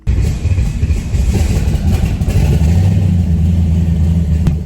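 A twin-turbo big-block Ford Fairmont engine revs loud and close, its dense low rumble holding steady and then swelling into a stronger sustained roar, with no talking.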